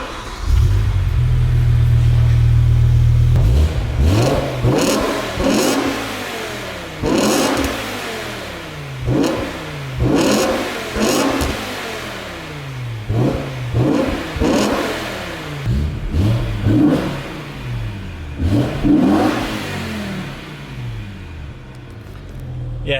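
A BMW E60 M5 on its stock exhaust revs repeatedly, rising and falling in sharp bursts after a low idle rumble, loud and close with a raspy exhaust note.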